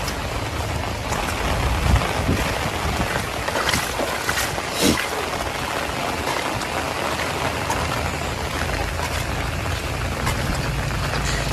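Steady rain falls from morning to evening, pattering continuously on surfaces with a dense even hiss and occasional louder drips, moderately loud and with no speech.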